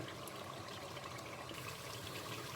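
A pot of water at a full boil on the stove, ready for cooking rice, gives a steady close bubbling and hissing wash that runs evenly throughout without any talk.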